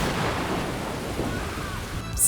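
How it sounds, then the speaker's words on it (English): Rain falls steadily in a thunderstorm, a dense moderate wash of drops with a low rumbling undertone throughout and a sharp brighter burst at the very end. "sometimes it can turn into stormy weather"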